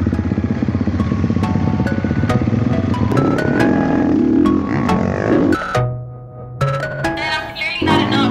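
A 350 dirt bike fitted with an FMF exhaust revs and rides nearby, its engine note rising and falling through gear changes, with sharp mechanical ticks and a brief drop in revs before it pulls away again.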